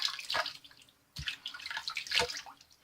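Water splashed onto a face by hand while getting ready for a wet shave, two separate bursts of splashing and dripping at close range, with a short quiet gap between them.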